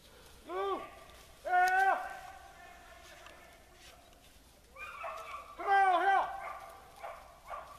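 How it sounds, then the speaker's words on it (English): Rabbit-hunting dogs in Virginia bay while chasing a rabbit, several drawn-out, rising howls in two clusters at moderate distance, with quiet outdoor background between them. "All them dogs sound good together, too."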